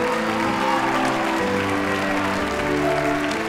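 A talent show audience applauds a rapper, the clapping running steadily under a sustained backing music tone.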